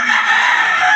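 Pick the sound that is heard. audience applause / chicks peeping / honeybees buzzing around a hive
chicks peeping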